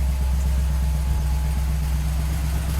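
An American muscle car engine idling with a deep, steady exhaust rumble, a continuous low burble held at a constant pace, close and fairly loud with no voices.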